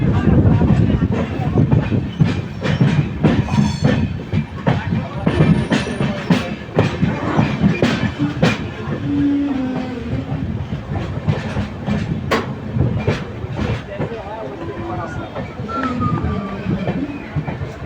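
An Indian Railways long-distance express running from Howrah to Balurghat, heard from aboard with loud, steady clickety-clack of wheels over rail joints and sharp rhythmic clanks, under a constant rumble and faint voices.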